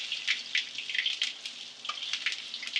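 Ahi tuna with a seed crust searing in a hot pan, producing a bright, crackling sizzle with irregular pops and spatters close by, alone without voices.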